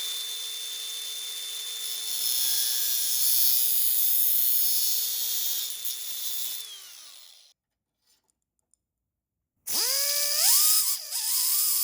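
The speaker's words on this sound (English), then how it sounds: "For this, I am going to use my cutoff wheel since it's such a big cut" A cutoff wheel makes a long, loud, high whine while cutting an aircraft part for a RANS S-21 build, then winds down to near silence before spinning back up with a rising pitch.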